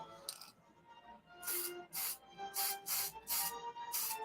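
Pearl white paint is sprayed onto shuttles from an aerosol can under a bench, in a run of short, loud hissing bursts with brief pauses between them and faint background tones.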